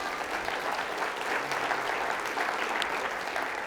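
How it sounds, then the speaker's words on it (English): A conference audience at a STEM plenary claps for several seconds, a steady, fairly distant wash of many hands with no clear voices on top. "Give them a round of applause"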